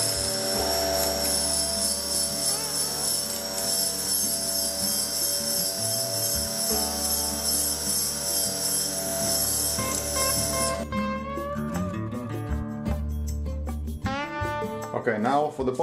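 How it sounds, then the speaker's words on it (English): Facetron faceting machine running at maximum speed while pre-polishing a diamond, a steady high-pitched whine with tonal harmonics that gives way to scraping contact sounds and someone talking over it. "I set the machine at maximum speed, and we pre-polish."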